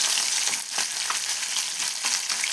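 Chakla fish frying in oil in a pan, a loud, close, continuous hissing sizzle with small crackling pops and no voices.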